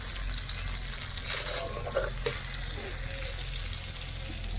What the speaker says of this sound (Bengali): আর মশলাটা কত সুন্দর ভাজা ভাজা হয়েছে দেখো।